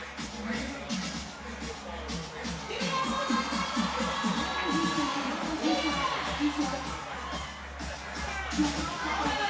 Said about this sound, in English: Crowd really getting into it